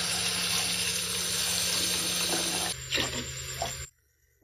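Water pours steadily from a tap into a pot of browned chicken for haleem, a continuous close rushing stream that shifts pitch near the end, then stops abruptly into silence.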